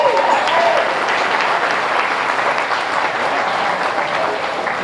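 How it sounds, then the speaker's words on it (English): An audience at a junior swine show claps in a dense, sustained round of applause that holds steady and fairly loud throughout, with a faint voice under it near the start. "Let's give her a nice round of applause."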